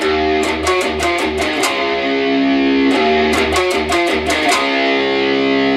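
Distorted, palm-muted electric guitar chugs through a riff of tight, rhythmic power chords, with short choppy strums repeating in two similar phrases, loud and close.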